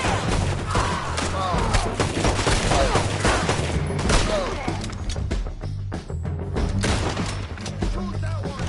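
Gunfire in Red Dead Redemption 2 video game, a loud dense fusillade of overlapping shots and booms throughout, with voices talking under and between the blasts.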